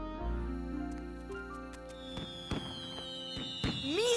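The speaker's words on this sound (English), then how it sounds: "Fireworks!" Cartoon fireworks at the Eiffel Tower in Paris: a rising whistle followed by several sharp crackling bursts and pops, loud and close, with no talking over them.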